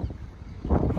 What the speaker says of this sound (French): Là, il y a du vent, je ne sais pas si vous m'entendez bien